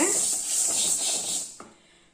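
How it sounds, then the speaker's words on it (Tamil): Black kavuni rice and black urad dal dry-roasting in ghee in a pan, a steady close hiss and rustling scrape of grains that fades out near the end, with no talking. "இப்போது கருப்பு கவுனி அரிசியும் கருப்பு உளுந்தையும் 2 ஒன்றாவே போட்டு வறுக்கலாங்க."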